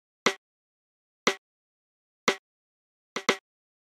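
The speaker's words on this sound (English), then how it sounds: "the next layer that we have here is this rim shot" Rim shot sample built from a recorded acoustic kit snare drum: four sharp, dry cracks, evenly spaced about a second apart, the last doubled into a quick flam-like pair, alone against silence.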